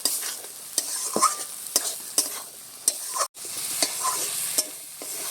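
Fried potato and pumpkin stems are stirred into dal in a pot, with repeated close spoon scrapes and knocks at a steady rhythm over a soft simmering sizzle.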